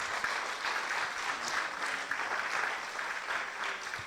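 A church congregation applauds together in a steady, dense burst of clapping that fills the room and holds at an even level throughout, with no voices rising above it.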